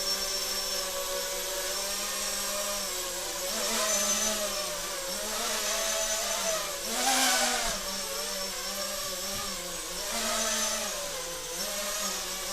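An Eachine Falcon 180 quadcopter drone flies indoors in a garage, its motors giving a steady buzzing whine that swells and dips as the throttle shifts through turns. No one speaks.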